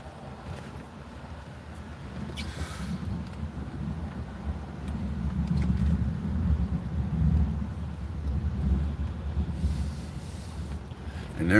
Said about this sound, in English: there's some thunder rolling and rumbling all around me